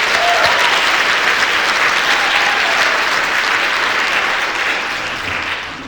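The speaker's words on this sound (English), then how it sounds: "Let's give her another round of applause." Loud, sustained audience applause fills the room at an evening police-honoring ceremony, steady for several seconds and fading slightly toward the end, with no talk over it.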